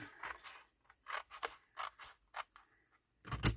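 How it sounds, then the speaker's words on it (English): Scissors snip through a paper square, cutting along a score line for a flippy pocket craft piece: a series of soft, close, short crisp cuts with pauses between, ending in a sharper final snip. "So just carefully cut up there,"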